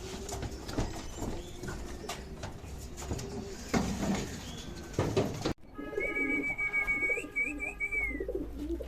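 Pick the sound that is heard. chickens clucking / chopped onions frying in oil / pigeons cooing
pigeons cooing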